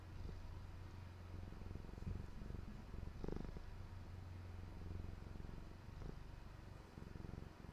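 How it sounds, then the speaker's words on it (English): A house cat purrs right beside the listener, a soft, low and rhythmic rumble that holds steady for nearly eight seconds, with a few faint thumps and rustles over it. "Can you hear him purring?"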